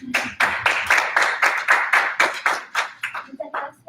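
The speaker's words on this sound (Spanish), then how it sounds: "Un aplauso, por favor." A lecture audience at a talk on sound poetry gives brief applause, a series of distinct, fairly close claps in a steady rhythm that thins out, with speech at the end.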